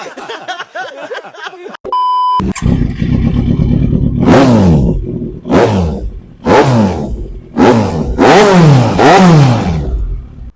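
Kawasaki Z900 motorcycle at a bike showroom, engine blipped hard several times after a short beep and idle, each rev rising and falling in sharp loud roars, close and with no talking.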